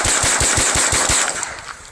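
Rapid semi-automatic gunfire from CCI Stinger .22 rounds, roughly ten loud, evenly spaced shots cracking in quick succession before tapering off near the end, with no talking.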